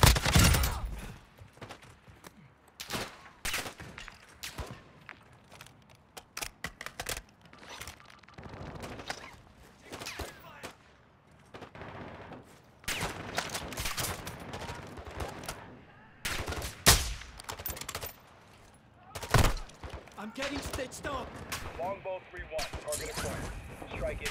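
Rapid gunfire in a Call of Duty match, bursts of automatic and single shots cracking in quick irregular volleys, loud and close, with players talking over the shooting.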